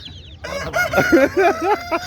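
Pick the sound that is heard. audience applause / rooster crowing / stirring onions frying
rooster crowing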